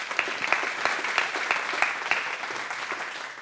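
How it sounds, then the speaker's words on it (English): An audience at an entrepreneurship talk gives one more round of applause, a steady crowd of clapping with a few distinct rhythmic claps standing out close by, sustained for the whole stretch. "Let's give them one more round of applause."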